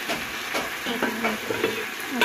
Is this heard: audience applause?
no